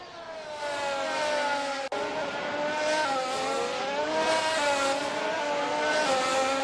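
A Formula 1 car in a racing sim at Monza howls at full throttle, its loud, sustained engine note climbing and shifting continuously with a brief dropout near the two-second mark.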